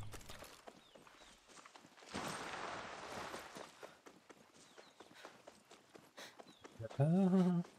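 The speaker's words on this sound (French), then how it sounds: "Le cheval a préféré se barrer dans l'eau." Horse hooves in Far Cry 6, steady clip-clop beats running under game sounds and voices, ending in a short loud burst.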